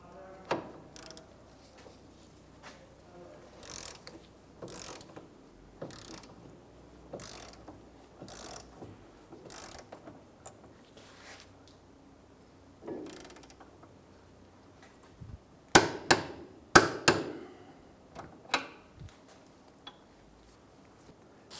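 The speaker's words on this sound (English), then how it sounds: "So now that we've torqued down our knuckle" A torque wrench on a knuckle bolt of a 2003-2011 Honda Element during rear wheel bearing work gives a series of sharp ratcheting clicks in a steady rhythm, with a denser, louder cluster of clicks near the end.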